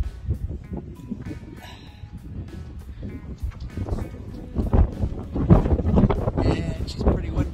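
Strong wind gusts on Coronet Peak near Queenstown buffet the microphone, rumbling and rising in bursts, with faint voices underneath.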